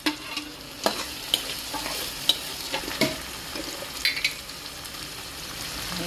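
Chopped onions and two small tomatoes with ginger fry in a pan for paneer bhurji, a steady close sizzle broken by sharp scrapes of a spoon stirring against the metal, no voices.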